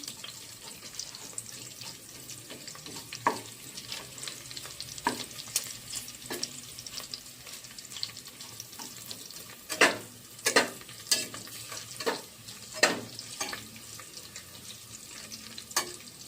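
Bay leaf frying in oil in a pot for khichdi, a low steady sizzle punctuated by a run of sharp metallic clinks and scrapes from stirring, close by and without voices.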